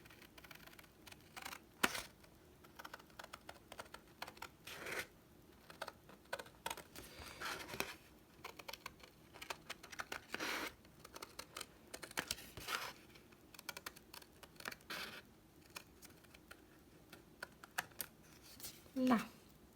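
Scissors cutting through paper for Easter junk-journal pouches, a series of short snipping clicks and soft crunches scattered across the stretch, close and fairly quiet, with brief speech in places.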